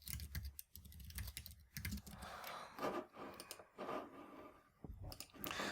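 Close clatter of typing on a computer keyboard, quick uneven bursts of key clicks with brief pauses between runs.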